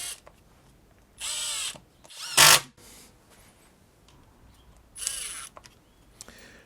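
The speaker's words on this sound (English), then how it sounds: "So I'll try this screwing some screws in" A Bosch GDR 18V-160 cordless impact driver sinks screws into wood in three separate bursts, the middle one loudest and harshest, with quiet pauses between and no talking.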